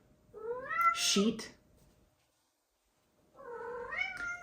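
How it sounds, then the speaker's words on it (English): A house cat meows insistently to be let outside: two drawn-out, rising-and-falling meows close to the microphone, separated by about a second and a half of quiet, with a single word spoken briefly between them. "Sorry, the cat wants to go outside and she's letting me know."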